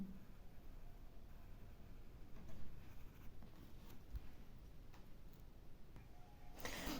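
A pen scratches faintly across paper while the lowercase letter D is handwritten, soft continuous strokes with a few light ticks, close and quiet with no speech.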